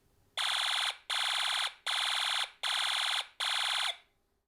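A Snap Circuits alarm IC sounds a loud electronic alarm as five evenly spaced buzzing beeps in a steady rhythm, alone against silence.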